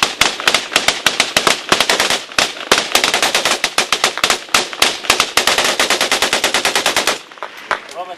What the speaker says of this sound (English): And here firing, sounds like machine gun fire coming from there.